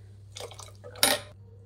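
Beans sambar being stirred in a cooking pot, giving a few short metallic scrapes and clinks of a ladle against the pot, with one louder scrape near the end, close up and with no talking.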